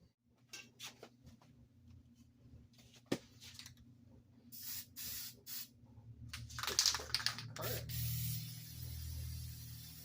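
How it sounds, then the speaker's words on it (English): Copper spray gasket sealant hisses out of an aerosol can onto an engine intake gasket, in several bursts of spray that build into a longer, louder stream near the end. Small clicks and handling noises come between the bursts. "I'm going to spray with a little my favorite copper spray."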